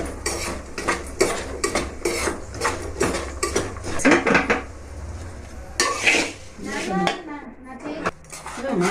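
Flattened rice (poha) mixture is tossed in a pan, giving a run of quick metallic scrapes and clinks of a spoon against the pan, close and fairly loud, with someone talking over part of it.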